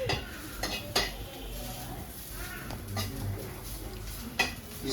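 Onions stir-fried in a pan make a low sizzle under repeated metallic scrapes and clanks of a utensil against the pan, close and irregular, with faint voices in the background.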